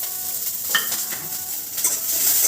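Chopped garlic, ginger and green chilli sizzling steadily in hot oil in a pan while being stirred, a dense close frying hiss with small scraping touches throughout and no talking.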